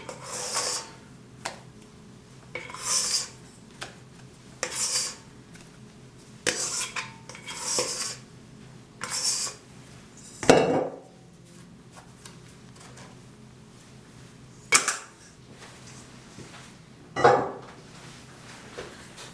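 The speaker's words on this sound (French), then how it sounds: "je viens délicatement monter, mélanger ces blancs d'œufs à ma préparation" A spatula or spoon scrapes and taps around a bowl while beaten egg whites are folded into waffle batter made with melted butter, giving repeated soft scraping strokes with a few louder knocks, close and without talk.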